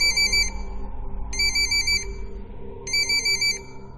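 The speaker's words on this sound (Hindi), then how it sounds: "तभी उस शांति को भंग करते हुए पुष्कर का फोन बजा" A phone ringtone sounds in three evenly spaced electronic bursts, loud and clear over a low steady hum in an otherwise quiet room.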